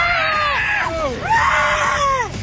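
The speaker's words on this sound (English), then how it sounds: "And the actors are screaming." Actors shriek in a magic show clip playing on a TV, with two long rising and falling screams, loud and close.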